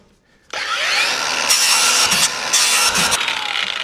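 A power saw cuts through a flimsy section of a 40-year-old Bass Tracker bass boat, starting abruptly after a short quiet moment, then running loud and close with a steady buzzing whine and slight shifts in pitch.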